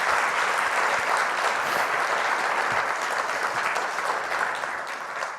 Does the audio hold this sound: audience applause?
yes